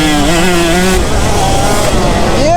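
A KTM or Husqvarna 125 two-stroke dirt bike screams at full throttle on a rocky track, its loud, close engine note climbing and dipping in pitch before rising again near the end.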